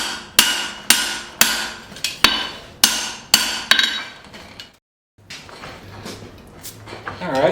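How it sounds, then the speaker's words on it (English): A hammer strikes a steel cleaver on an anvil while a bevel is forged, about seven sharp ringing blows in a steady rhythm, close and loud, followed by a pause and then fainter clinks and shuffling. "Now I'm going to forge in a bevel."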